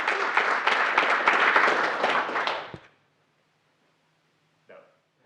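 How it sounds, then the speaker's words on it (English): Conference room audience giving a burst of applause, dense and fairly close clapping for under three seconds before cutting to near silence, followed by a brief faint sound. "you just great. got a huge round of applause from the room"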